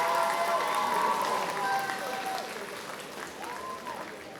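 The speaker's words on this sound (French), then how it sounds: "On peut l'applaudir bien fort." Audience applause at a cosplay contest, a steady wash of clapping from a crowd that slowly fades over a few seconds, with voices murmuring underneath.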